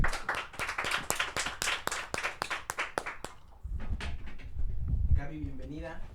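A small studio audience claps in a brisk, close burst of distinct handclaps for a guest arriving on set, then the clapping stops and a person begins speaking.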